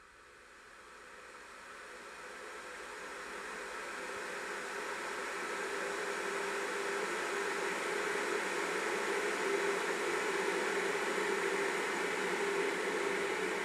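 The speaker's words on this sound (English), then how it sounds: "the impulse response reverb of the humidifier" Audio sent through a humidifier impulse-response reverb gives a steady, broad airy hiss that swells up over the first few seconds, then holds at an even level to the end with no talk.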